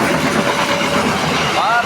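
A parcel freight train passes right at level crossing JPL 286A in Kediri, Indonesia, a loud, close, continuous rumbling roar of wheels and wagons that stays steady throughout.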